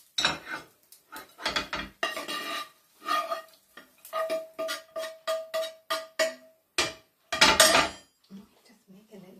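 A metal spoon scrapes and clanks against a cooking pot while rice for chicken curry is served out, in a steady run of close, ringing knocks and scrapes with brief pauses.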